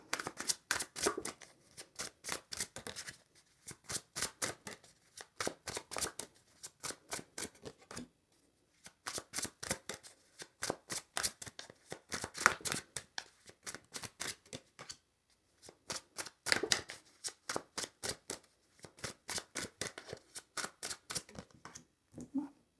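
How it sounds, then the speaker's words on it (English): Tarot cards are handled and shuffled on a table in quick bursts of crisp riffling flicks, separated by short pauses, close and quiet with no talking. "I'll pull all the cards out on the table and then I'll talk about them."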